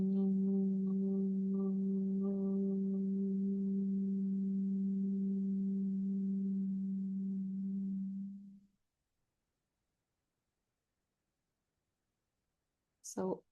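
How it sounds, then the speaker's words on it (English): A long Om hummed with closed lips on a single exhale through the nose, a steady low drone lasting about eight seconds and fading out, followed by silence and a short sound at the end. "on the exhale through the nose, we're gonna vocalize a long Om"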